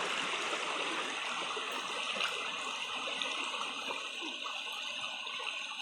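Water runs steadily from a redirected pipe outdoors, a continuous rushing, gurgling flow that stays even and moderately loud throughout, with no voices.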